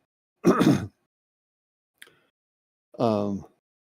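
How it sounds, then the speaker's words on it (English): A man clearing his throat during a late-night call-in radio broadcast: two short, gruff rasps a couple of seconds apart with a faint click between them, close to the microphone in an otherwise quiet studio. "Excuse me for clearing my throat a lot."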